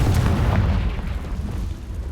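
Confringo blasting spell cast in the video game Hogwarts Legacy, a loud, close explosive boom that rumbles and fades over a couple of seconds.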